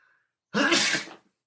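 A single sharp sneeze, close and fairly loud, after a brief moment of quiet.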